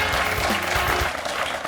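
A quiz show audience claps for a contestant in a short, dense burst of applause heard up close and steady throughout.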